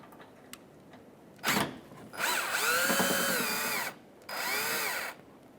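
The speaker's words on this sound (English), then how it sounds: "now that you've taken your screw out, or your two screws out on the side of your bumper" Power drill whirring in bursts while backing Phillips screws out of the fender liner on a 2007-2013 Acura MDX, two longer runs after a short opening buzz, close and fairly loud.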